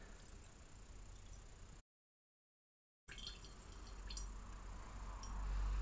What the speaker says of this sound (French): Puis on ouvre le robinet pour évacuer la phase d'eau, la phase inférieure d'eau qui est plus dense que l'éther.